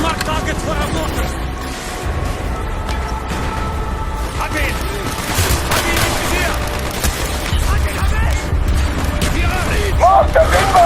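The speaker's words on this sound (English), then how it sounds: "Firing mortar!" Mortar fire in the Call of Duty: Black Ops campaign, with continuous loud blasts, rumble and gunfire layered under shouted voices in a dense battle mix.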